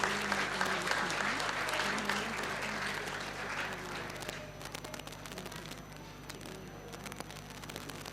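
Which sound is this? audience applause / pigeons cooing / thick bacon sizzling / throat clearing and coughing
audience applause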